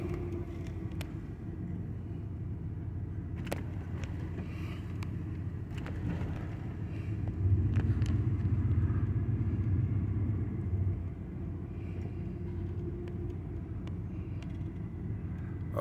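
Lifted Chevy truck with a lift kit and a squatted rear, its engine a low, steady rumble heard at moderate distance, swelling louder for a few seconds midway, with scattered clicks and no speech.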